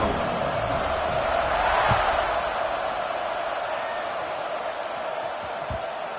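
Stadium crowd in a Madden American football game roaring steadily before a kickoff, a broad continuous wash of cheering with a few faint thuds.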